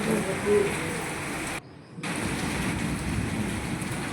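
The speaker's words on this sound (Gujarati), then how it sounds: "કેવી વીજળી કડાકા થાય છે" A storm brings a steady roar of heavy rain close by, with a deep rumble underneath and a brief drop in the noise midway.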